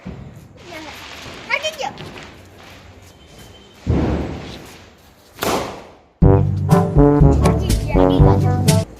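Firecrackers go off at night during a Dev Diwali celebration: two loud bursts with a trailing hiss stand out among children's voices and chatter, followed by a busy, noisy stretch.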